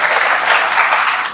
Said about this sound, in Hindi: इन चारों बच्चों के लिए ताली बजाओ जोर से।